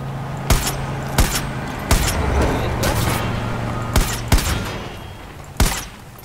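Shotgun blasts in Far Cry 5, about six loud sharp shots spaced roughly a second apart over a steady game background, with a voice talking between them.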